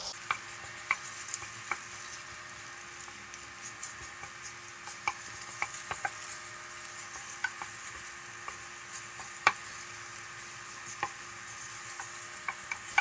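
Sausage meat browns in olive oil, a quiet soft sizzle under frequent small clicks and taps of a utensil breaking it up in the pan, irregular and fairly faint, with no talking.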